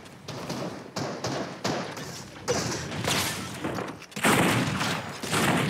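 Video game gunfire aimed at the player, a volley of loud cracks and thuds arriving in several bursts, sharp onsets followed by rumbling tails, growing heavier toward the end.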